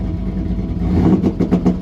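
A car engine revs in short bursts at close range, with a rough mid-range drone broken by a few quick crackling pops toward the end.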